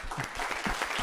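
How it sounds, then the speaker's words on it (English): Audience applause at an energy seminar on the National Ignition Facility fusion breakthrough, a brief dense burst of many hands clapping together, steady and fairly close, with no voices over it. "everybody can clap if you would"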